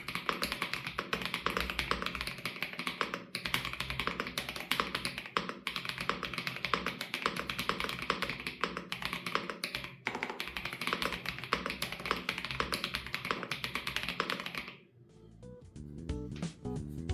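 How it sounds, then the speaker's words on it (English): Steady rapid typing on a Tecware Spectre keyboard, a dense close clatter of key presses running for about fifteen seconds before giving way to a few softer, sparser taps. "Now here is a quick sound test of this keyboard."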